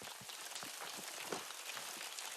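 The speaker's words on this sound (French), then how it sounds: "Il pleut sous terre." Water drips and patters steadily inside a volcanic lava tunnel on La Réunion, faint scattered drops over a hushed, hissing background.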